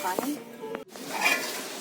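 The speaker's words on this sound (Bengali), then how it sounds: "কলা ভাজা আমাদের রেডি হয়ে গেছে কিছু কুমড়ো ভাজছে এখন" Pumpkin slices fry in oil for a festival cooking spread, a close hissing sizzle broken by a brief clack of stirring, with a voice speaking faintly underneath.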